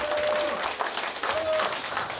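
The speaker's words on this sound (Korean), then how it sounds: "뜨거운 박수 부탁드립니다" Audience applause at the opening ceremony of a national Korean folk song contest: steady, moderately faint clapping from a crowd throughout a short stretch, with no clear speech.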